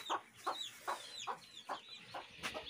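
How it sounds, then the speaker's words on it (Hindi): Chickens cluck in a steady rhythm, about seven short clucks close by, as they are carried into the shade to be tied, with fainter bird chatter in the background. "ये मुर्गियों को बांध रहा है धूप से छा में"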